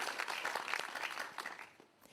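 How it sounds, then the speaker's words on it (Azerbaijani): Many hands clap for a contestant during a competition final, a brisk, busy patter that runs evenly for about two seconds, then fades quickly. "Aysun Mirzəyevanı alqışlayırıq."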